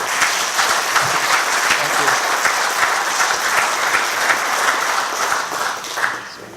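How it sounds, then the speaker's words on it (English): A meeting audience at a 2019 groundwater annual meeting gives the GMD board a round of applause, dense continuous clapping from many hands that runs throughout and thins slightly near the end. "I would encourage the audience to give our GMD board a round of applause"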